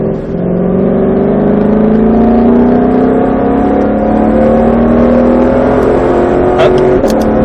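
A Shelby GT500 pulls hard on a cone-marked track, its engine note climbing steadily through a long gear while harmonics rise together. The sound is loud, close and continuous, with a faint voice barely present underneath.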